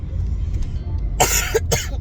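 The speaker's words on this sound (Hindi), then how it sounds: "एक तो खांसी एकदम से चिढ़ गई" A person coughs twice in quick succession, loud and close, after a quieter stretch of low background rumble.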